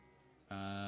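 A sheep bleats in the Civilization V strategy game, a single loud, sustained synthetic bleat starting midway after a quieter ambient game background.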